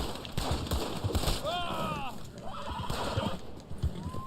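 A horse whinnies in a drawn-out, wavering call amid rhythmic hoofbeat clip-clops in the video game Red Dead Online, with a second shorter neigh near the end.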